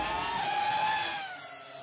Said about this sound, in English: Here's Speedball Herman from Gravity Throttle Racing. This is lap one.